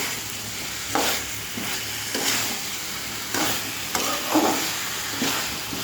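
Vegetables sizzle in a pan while a spatula stirs them, a soft continuous frying hiss punctuated by five or six distinct scraping strokes at irregular intervals, heard up close.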